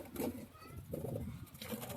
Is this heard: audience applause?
no